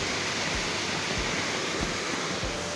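Fast-flowing floodwater after heavy rain in a village makes a constant, loud rushing hiss. It plays alone, with no voices, and stays even throughout.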